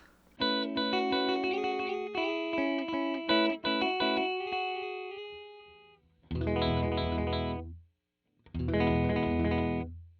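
A distorted guitar plays through the Stutter preset of an Eventide UltraTap delay pedal, notes chopped into rapid repeating bursts, then two sustained chords cut off abruptly into silence.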